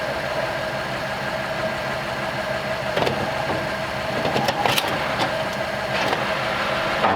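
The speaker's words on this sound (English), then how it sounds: "that throw-out bearing does not sound happy" A 1939 Ford convertible engine idles steadily at close range while a worn clutch throw-out bearing adds irregular clicks and rattles as the clutch is worked.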